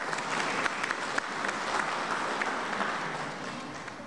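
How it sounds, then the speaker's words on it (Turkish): An audience claps in steady, even applause for the jury members at a foundation's women's project event, a continuous wash of hands lasting several seconds. "Ben bu bağlamda çok sevgili jüri üyelerime bir teşekkür alkışı istiyorum."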